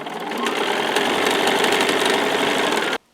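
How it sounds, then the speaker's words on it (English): A sewing machine stitches quilt binding in a loud, steady, rapid mechanical rattle close up, running continuously for about three seconds before cutting off sharply. "Line up that straight edge and start stitching."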